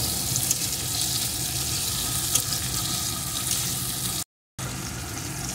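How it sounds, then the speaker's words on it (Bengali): Chopped onion, tomato and slit green chillies fry in a pan with a constant dense sizzle, close and even, briefly cut to silence near the end before resuming. "এখন এগুলোকেও পেঁয়াজ কুচির সাথে ভেজে নেব।"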